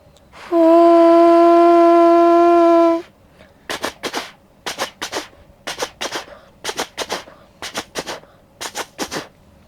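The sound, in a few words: child imitating a train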